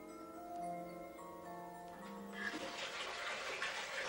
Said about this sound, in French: sans quitter son lit, on fait couler son bain